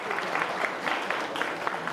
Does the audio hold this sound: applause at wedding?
yes